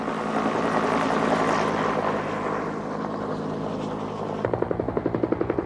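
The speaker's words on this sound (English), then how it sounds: "Right away, the helicopters speed to the nearest lake or river, fill up, and start all over again." A firefighting helicopter carrying a large water bucket flies over a forest fire, its loud, steady rotor roar filling the air and turning into distinct rhythmic blade thumps near the end.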